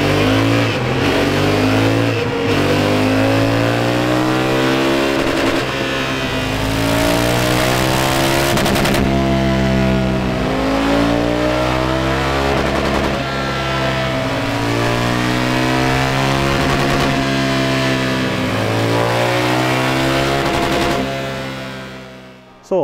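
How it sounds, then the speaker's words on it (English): A Honda Africa Twin CRF 1100 motorcycle strapped to a dyno, its engine revving loud and steady for the whole stretch, with rising and falling pitch sweeps through repeated runs and no talk. "We're going to get it strapped up on the dyno, get the base runs done, find out how it's fueling"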